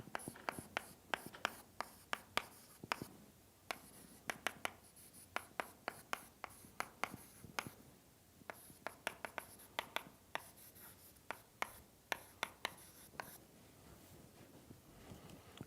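Chalk or marker tapping and scratching across a board as a doctoral lecturer writes out a partial differential equation solution, a long run of sharp, rapid strokes in uneven bursts, close and clear with no talking.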